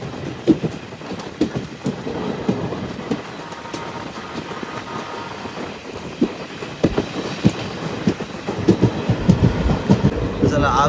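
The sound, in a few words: Narsapur Express train running slowly on the rails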